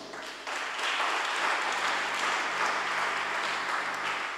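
A church congregation at a sermon breaks into sustained applause and cheering, a dense, even wash of many clapping hands that swells after a brief quieter start and holds steady throughout, with no voice heard over it.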